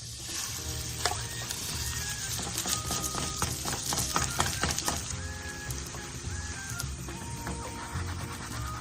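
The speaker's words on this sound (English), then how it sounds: "add some sesame oil to the frying pan where you sauteed the carrots. Set the heat to medium and return the batter to the pan" Batter fries in sesame oil in a frying pan over medium heat, a steady close sizzle with crackles and occasional light tapping.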